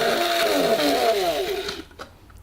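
Electric spice grinder whirring through bay leaves and spices, a buzzing motor drone with a falling pitch that runs for about two seconds, then cuts off to a few faint clicks.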